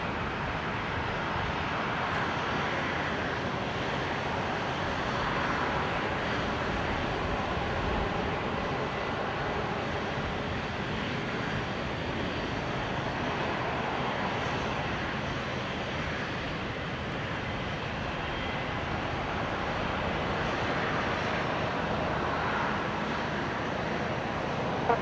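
A Dash 8 turboprop airliner at Brisbane Airport runs its engines with a steady, loud, broadband roar that holds constant throughout, with no voices.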